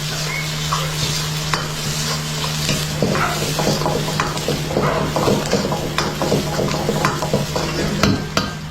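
Capsicum and bell pepper stir-frying with browned garlic in a pan, a steady loud sizzle with frequent scraping and stirring clatter throughout, no voices.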